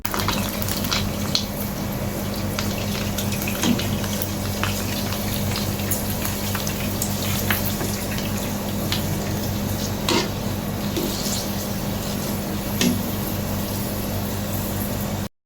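Phuchka puris deep-frying in hot oil give a steady, even sizzle and bubbling hiss, close and continuous with small pops scattered throughout and no talk.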